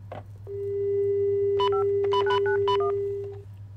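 In a horror video game, a telephone dial tone hums steadily while a quick series of keypad beeps is pressed over it, close and clear above a low background drone.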